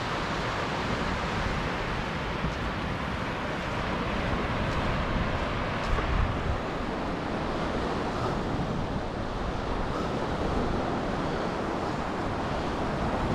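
Sea waves surging at the mouth of the Maroochydore River where it runs into the ocean, a steady broadband wash of surf mixed with wind buffeting the microphone, loud and continuous without speech.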